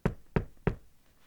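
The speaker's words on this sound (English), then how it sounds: "And he knocked on the door." Three sharp knocks on a door ring out in an even rhythm, close and crisp, with short decays and no other sound.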